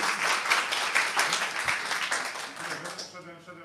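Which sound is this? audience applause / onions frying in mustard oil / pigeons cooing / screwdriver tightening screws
audience applause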